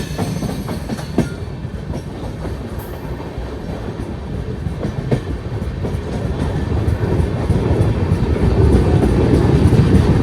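A goods train pulled by a single locomotive rolls past on an Ahmedabad-division line, its deep rumble and rhythmic clickety-clack growing steadily louder and closer throughout.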